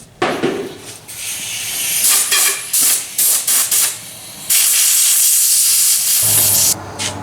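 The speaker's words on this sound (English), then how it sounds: "take the air hose, blow all this crap off there" Compressed air from an air hose blasts debris off a 1995 Mustang fuel pump in loud, close hissing bursts, several short puffs followed by a longer sustained blast.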